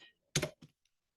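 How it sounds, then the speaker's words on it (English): Typing on a computer keyboard, two or three quick clacking keystrokes close to the microphone with silence between them. "So I'm typing something in the back"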